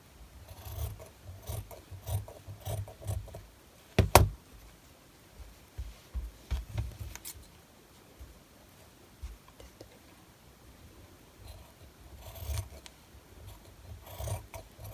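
Scissors trimming small fabric scraps for a collage eyeglasses case: close, quiet rasping snips in short scattered bursts, with one sharper click near the middle.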